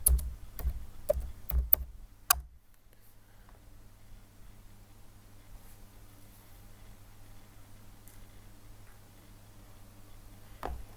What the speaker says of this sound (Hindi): मैं यहाँ पे यानी कि कोई प्रोडक्ट टाइप करता हूँ